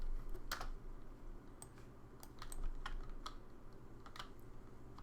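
Someone types on a computer keyboard in short, irregular bursts of quiet clicks up close against a faint, steady room hum. Nobody speaks.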